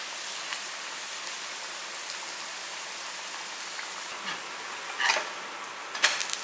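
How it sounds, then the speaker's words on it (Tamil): Vadas fry in hot oil with a fine, rain-like crackle, and near the end a couple of brief scrapes and clatters mark them being flipped in the pan. "முன்னாடி போட்ட வடையெல்லாம் திருப்பி போட்டுக்கலாம்."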